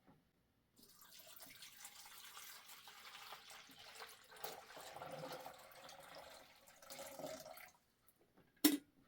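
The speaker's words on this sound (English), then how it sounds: "Let's pour some water into the back." Water poured from a jug into the back reservoir of a coffee maker, a steady splashing trickle lasting several seconds, then stopping, followed by a short sharp clink at the end.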